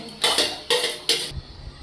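Cooked, cooled chicken pieces tipped from a metal bowl into a mixer grinder jar, giving three loud, bright bursts of clattering and scraping a few tenths of a second apart, followed by a faint low thud.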